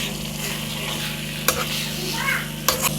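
Sarson ka saag frying with a tadka in a pan gives a continuous close sizzle, broken by a few sharp scraping stirs of a spoon against the pan.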